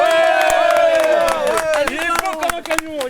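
A film crew applauds on set after an actor's final scene, with brisk clapping mixed with loud cheering and raised voices. The clapping grows more scattered toward the end.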